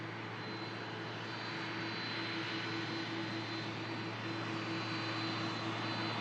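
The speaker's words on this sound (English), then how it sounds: "And that aircraft followed out, as I mentioned before, by another brilliant heavy." Jet airliner departing Manchester Airport, a steady distant engine roar holding at an even, moderate level throughout with no talk.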